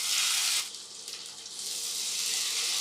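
Mustard and green chili paste, made from white and black mustard seeds, hitting hot oil with a loud burst of sizzling that drops back to a steady, softer hiss and then rises again, close by with no voices.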